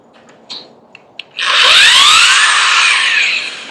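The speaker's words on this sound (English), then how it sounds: "The power drills come in handy in turning" Power drill for woodturning and sanding bowls, whirring in a loud, steady burst after a few faint taps, with its pitch shifting slightly as it runs for about two seconds close to the mic.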